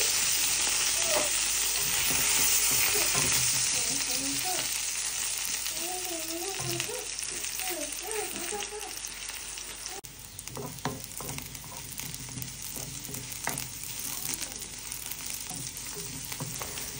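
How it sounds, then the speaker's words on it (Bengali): Pointed gourd (potol) frying in a pan, a steady close sizzle with stirring clatter underneath, joined by short bird-like chirps and voices partway through, then continuing as a crackling fry. "এই কিছু পটল ভেজে নিলাম।"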